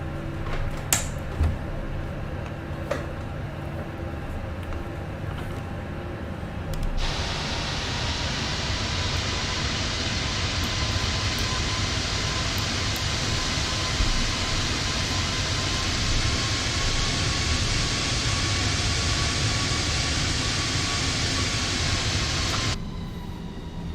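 Steady whine and hum of a Fenix A320 airliner taxiing in a flight simulator, a low rumble with a brighter engine roar swelling in and holding for most of the span before dropping off near the end.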